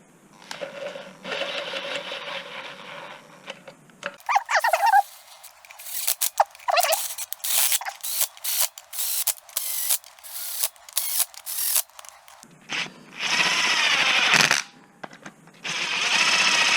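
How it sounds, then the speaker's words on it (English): A ratchet fitted with a 7mm socket and a wobble extension drives bolts down on a Kawasaki H2 supercharged engine, giving rapid bursts of clicking pawl strokes, close and distinct, separated by short pauses. "We have a 7mm socket. We'll put a little wobble extension, and we will drive these guys down."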